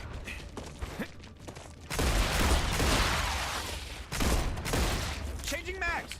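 Pistol fire at alien monsters in a video game comes as a dense burst of rapid shots and impacts in two loud stretches, over a quieter background with a voice speaking.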